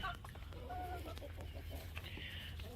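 Chickens cluck softly nearby, a few short calls and murmurs over a low background hum.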